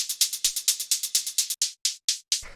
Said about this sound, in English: After that we have the synth hi-hat